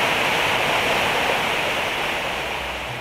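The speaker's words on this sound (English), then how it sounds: "this pipe ruptured and has been blowing water into the mill" Water blasting from a ruptured turbine pipe in the basement of an abandoned mill, a loud, continuous roaring rush like a waterfall that eases slightly toward the end.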